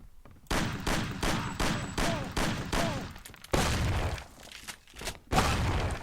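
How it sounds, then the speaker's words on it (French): Shotgun fire in the Mafia video game comes as a loud, rapid string of evenly spaced blasts, followed by a few heavier booms after a short pause. "le fusil à pompe c'est sévère"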